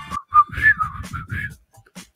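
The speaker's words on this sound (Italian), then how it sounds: "Marta riconosce questo fischio." A person whistles a short tune in a few rising and falling phrases with brief pauses, close and fairly loud, in a Fortnite quiz setting, with faint breath and a low background rumble underneath.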